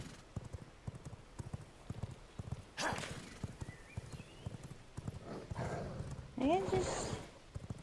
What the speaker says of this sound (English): Why are they fighting the horsey?